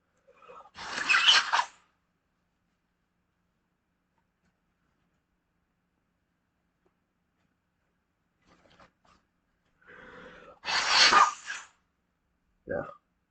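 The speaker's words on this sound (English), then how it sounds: "Yeah, sneezing today." Two sharp sneezes, one near the start and another about nine seconds later, close and loud against a quiet room, with a brief vocal sound between them and a short one at the end, during a bridge pairs game.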